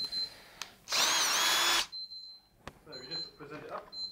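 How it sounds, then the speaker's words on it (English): A Bosch cordless drill in first gear bores a large hole into a wooden fence post, giving one loud, steady burst of just under a second, with faint clicks and quiet handling sounds around it. "we're going to drill some fairly large holes in this fence post in first gear with this machine"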